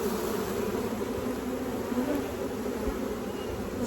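Honeybees buzz steadily in a dense, continuous drone around an open hive during brood frame handling, close and moderately loud, with no voices.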